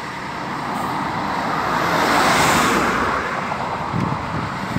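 A Rápido Federal intercity bus from Goiânia pulls through the Brasília bus station: a broad diesel rumble swells to a peak and eases off, steady and fairly close, with traffic noise around it.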